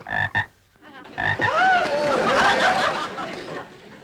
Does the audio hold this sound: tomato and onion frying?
no